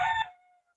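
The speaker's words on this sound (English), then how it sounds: "Forgive the rooster outside." A rooster crows outdoors, heard from inside as a short, fairly faint final stretch of a crow that fades out quickly, with no talk over it.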